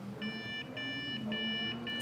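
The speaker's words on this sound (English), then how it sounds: "It's beeping." A gaming PC being built gives a run of steady, evenly spaced electronic beeps, four short pulses in a regular rhythm, faint and alone over a low background hum.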